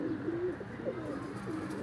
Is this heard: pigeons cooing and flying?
yes